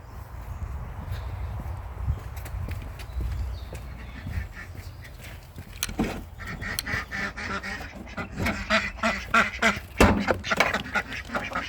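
Several Indian runner ducks quacking nearby, scattered calls that grow busier and louder toward the end over a low background rumble.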